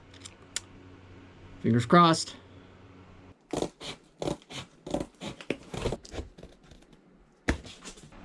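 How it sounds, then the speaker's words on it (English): A short spoken remark, then a run of crisp, close scissor snips cutting through cardboard in an uneven rhythm, with a sharp click near the end. "cut that with scissors"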